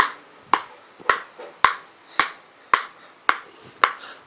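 A table tennis ball, a Butterfly ball, bounces on a Butterfly Hayabusa ZXi blade in a steady run of about eight crisp, evenly spaced pings with a hard attack and a short decay, close to the listener.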